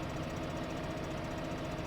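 Tractor engine in the farming game Farming Simulator 15, a steady low idling drone with a faint knocking pulse, continuous and fairly quiet throughout.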